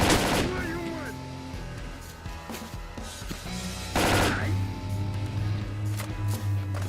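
Automatic gunfire from a real gun in the shooter game S.T.A.L.K.E.R.: Call of Pripyat, with repeated loud bursts and a heavier volley near the end over a steady game background hum.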